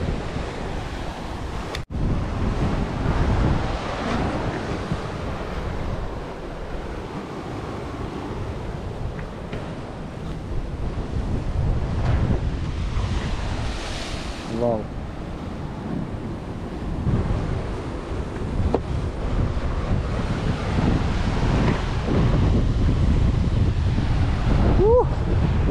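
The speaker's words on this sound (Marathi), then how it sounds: "इकडे किनाऱ्याला जरा लाटा जास्त असतात" Rough sea waves surge and break on the rocky shore at Vengurla on the Konkan coast, their rolling wash mixed with heavy wind rumble on the microphone across the whole stretch.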